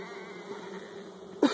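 A steady, close drone of some 10,000 honeybees at a hive installation, with a louder burst of buzzing right at the end.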